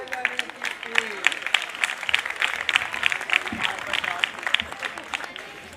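Audience clapping during a talk on the history of Mary by an archbishop; a burst of applause with distinct sharp claps mixed with a voice talking over it.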